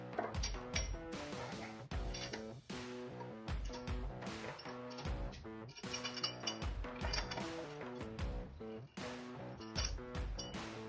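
Lug nuts come off a wheel of a raised Chrysler Town and Country minivan, with quiet, uneven bursts of ratcheting and metallic clinks and no voices.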